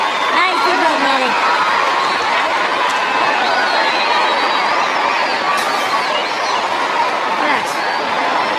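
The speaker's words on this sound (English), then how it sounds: "the crowd is up now. It's a Mexican crowd now." A Mexican crowd at a boxing fight roars in a dense, continuous wall of cheering and shouting throughout, with whistles and whoops poking through and voices talking close over the din.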